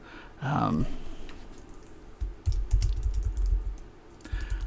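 Typing on a computer keyboard while editing text in a graphic design web tool: a burst of quick, close key clicks in a steady patter after a short breathy sound, with no talk over it.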